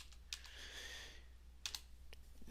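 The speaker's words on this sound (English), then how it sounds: "Hit Enter on your keyboard until your cursor is about a quarter of the way down the page." Typing on a computer keyboard, a few sharp, close key clicks separated by quieter gaps, with soft background noise between the taps.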